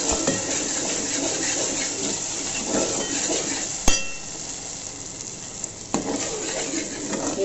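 Ginger garlic paste stirred into hot oil in a pan, a steady low sizzle and frying crackle with a couple of sharp clinks of a spoon against the pan.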